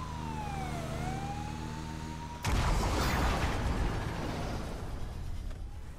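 An emergency vehicle siren wails in GTA 5 Online, a loud sweeping tone for about two seconds before it cuts into a heavy broadband roar of engine and road noise that carries on to the end.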